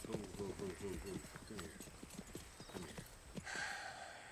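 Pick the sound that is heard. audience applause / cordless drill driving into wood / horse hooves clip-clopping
horse hooves clip-clopping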